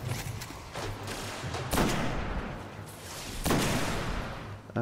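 Gunfire in Destiny: rapid bursts of shots and heavy blasts crack out in a fast, dense barrage, loud and close, with a couple of stronger impacts standing out.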